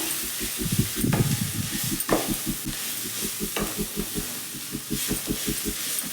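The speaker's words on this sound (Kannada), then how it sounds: "ಸ್ವಲ್ಪ ಸೊಪ್ಪು ಮೆತ್ಕಾಗೋ ತನಕ ಈ ರೀತಿ ಫ್ರೈ ಮಾಡಿಕೊಂಡ್ರೆ ಒಳ್ಳೆಯದು" Masala with kasuri methi and leafy greens frying in a pan, a steady sizzle and hiss broken by repeated rhythmic scraping strokes of a spatula stirring, close and clear with no talking.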